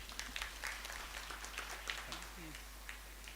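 An audience claps after a presentation at a livestreamed National Treasury event in Kenya, steady scattered applause throughout, moderately faint, with some background voices underneath.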